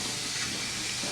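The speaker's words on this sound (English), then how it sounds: "I'm just bleeding the water out of the steam line." A steam line hisses steadily as water is bled out of it in a luthier's workshop, a close, continuous broadband rush with no talking.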